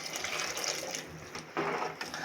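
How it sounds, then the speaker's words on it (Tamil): Water pours from a vessel into a pot of channa masala kurma, a soft close trickle and splash lasting a couple of seconds. "நாங்கள் இட்லிக்கு பயன்படுத்துறதால கொஞ்சம் தண்ணி விடலான்ட்டு இருக்கிறோம்."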